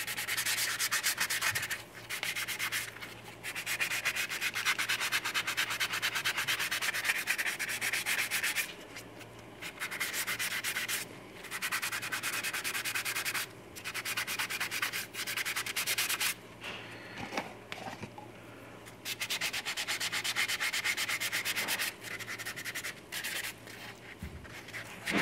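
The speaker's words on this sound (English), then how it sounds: "So I'm just sanding the pants on work." Steady sanding of the pants on a 1/6 scale vinyl model kit figure: a close, continuous scratchy rubbing in long strokes, broken by short pauses.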